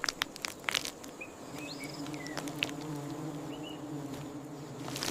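Bees buzzing around a broken honeycomb, a sustained low droning hum with brief close passes, alongside crackling, crunching sounds of comb being crushed and occasional short chirps in the background.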